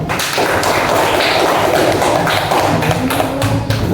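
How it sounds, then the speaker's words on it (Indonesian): A classroom gives a burst of steady, close clapping that goes on for several seconds as a dense patter of many hands. "Oke, beri aplaus."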